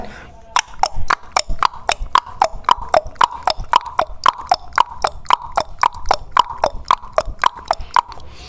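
Hooves of a horse pulling a tonga clip-clop steadily on a town road, nearly thirty crisp, evenly spaced beats at a brisk trot, close and clear with no talk.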